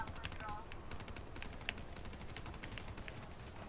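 A light machine gun firing in Black Ops 3, rapid repeated shots in quick bursts under a steady background of game noise.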